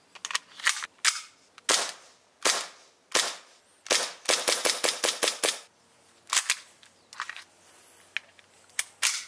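Airsoft pistols firing sharp, close cracks, singly and then in quick bursts of several shots with brief gaps between them, and no voices.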